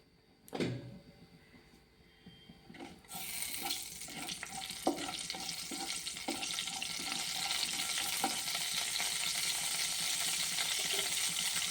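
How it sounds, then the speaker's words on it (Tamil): Mustard seeds dropped into heating oil for a raw-rice coconut upma start a steady, close sizzle that swells after a few seconds, with scattered sharp pops and crackles over a dense hiss; no talking. "இப்போ அதுக்கு கடுகு போட்டுடலாம். எண்ணெய் கொஞ்சம் காயட்டும்."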